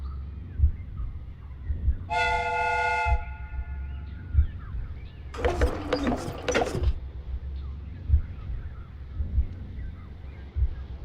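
A steam train replica in the Sherlock Holmes Crimes and Punishments game sounds one clear, bright whistle blast of about a second, then a burst of clanking machinery over a low, pulsing mechanical rumble.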